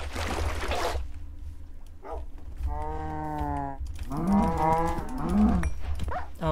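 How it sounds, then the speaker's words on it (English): Cows mooing in a survival-style video game: a short burst of noise, then two drawn-out, tonal moos a second or so apart, fairly close and clear over a low hum, with no talk. "Cows, hello."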